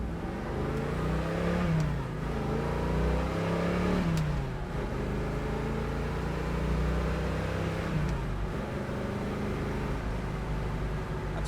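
A 1969 Chevrolet Camaro Z28 style car accelerating hard through the gears, its engine note climbing and then dropping at each shift, loud and close from inside with no talk.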